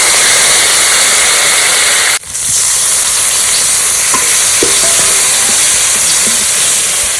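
Bay leaf, dry red chilli, whole cumin and ginger paste frying in hot oil, a loud steady sizzle broken by one sharp clatter, then a few small clinks as stirring continues.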